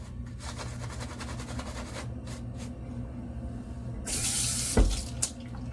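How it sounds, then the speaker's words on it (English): Water runs from a tap in a steady rushing stream and then stops, with a small splash and a clunk at the end, close by, while a faint mechanical hum keeps going underneath. "we're going to need to add a lot of water"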